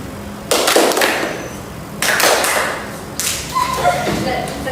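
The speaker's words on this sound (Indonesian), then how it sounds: "jadi ibu tunjuk harus tepuk tangan" A classroom group claps in unison on a teacher's cue: three separate sharp bursts of collective clapping, each a single loud clap with a short decaying tail, spaced a second or more apart in a quiet room.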